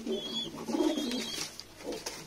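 Pigeons cooing close by on a rooftop loft, a couple of soft, throaty rolling coos lasting a few seconds.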